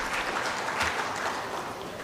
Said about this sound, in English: Give them a big applause to encourage them for the future